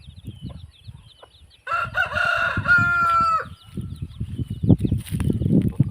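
On a farm, a hen with one chick clucks in low, repeated bursts close by, while a rooster crows loudly partway through and high chick peeps sound faintly in the background.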